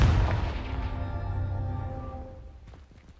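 A fiery Confringo blast spell in Hogwarts Legacy, a heavy booming burst at the start that rumbles and rings out as it slowly decays into quiet.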